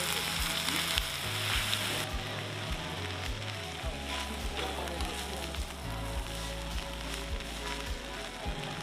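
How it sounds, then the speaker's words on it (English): Korean BBQ food cooking in a hot stone bowl at a restaurant, giving off a dense, continuous crackling hiss over a low hum and faint background murmur. "you just hear that sizzle from the hot stone bowl and all that stuff just cooking in it"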